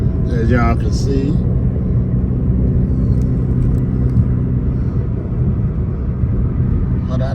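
A steady, low road rumble and engine drone fill the cabin of a red Dodge Charger cruising on the freeway, constant and close, with someone talking over it at the start.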